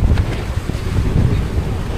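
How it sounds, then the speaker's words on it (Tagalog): Strong northeast monsoon wind at sea buffets the microphone in a steady low roar, with rushing air and sea sounds throughout and no voices. "Malakas ang amihan ngayon."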